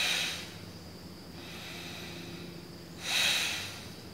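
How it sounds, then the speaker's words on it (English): Forceful pranayama breathing during yoga practice, two strong airy exhales or inhales near the start and end with a quieter steady breath between, close and alone without talk. "Simply breathing out, breathing in"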